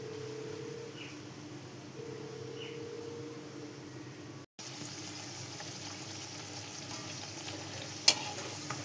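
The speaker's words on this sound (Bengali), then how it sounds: "এদিকে ভাজা করছি," Food fries in hot oil in a home kitchen, making a quiet, continuous sizzle with a faint low hum, a brief dropout midway and a single sharp click near the end.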